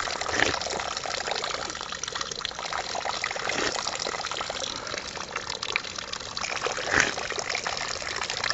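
Water from a natural mountain spring trickling and splashing steadily at close range, a constant bright burbling flow with occasional louder gushes and no talking.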